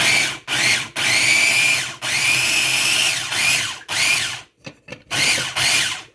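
A blender loudly purees a small batch of garlic and oil free hummus, running in several whirring bursts of about a second each with brief pauses between, then shorter stuttering pulses near the end.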